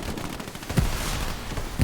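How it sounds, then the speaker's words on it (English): Battle in the World War II shooter Hell Let Loose during a competitive match, with bursts of distant machine-gun fire and muffled explosions rumbling together in a dense, continuous clamor, no one speaking. "Holy moly, it's a lot of explosions."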